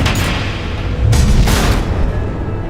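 Missiles explode in Batman: The Enemy Within with loud, heavy booms, two sharp blasts rising out of a dense rumbling roar that fills the short stretch.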